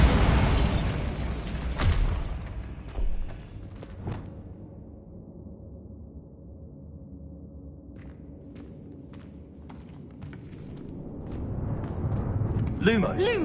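A Bombarda blasting spell in the video game Hogwarts Legacy goes off with a loud burst and thudding debris near the start, fading into a quiet low hum with a few faint clicks before ambient noise swells again.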